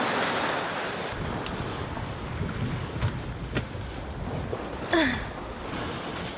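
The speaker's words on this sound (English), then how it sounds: "Last evening at sea, and it's really rolly." Waves slosh and wind blows steadily around a rolling sailboat at sea in the evening, a continuous wash with occasional splashes and creaks close by, no voices.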